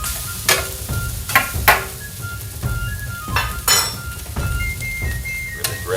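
Garlic and leftover cooked rice sizzle on a 1600W Vevor electric flat top griddle while a metal spatula scrapes and clinks against the surface in repeated strokes, loud and close.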